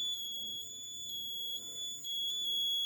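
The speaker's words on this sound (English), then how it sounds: "Now I am moving near the PIR sensor. It starts giving the buzzer and LED." Electronic buzzer triggered by a PIR motion sensor in a simple Arduino-free circuit, a steady high-pitched continuous tone with faint pulsing, fairly quiet and heard alone.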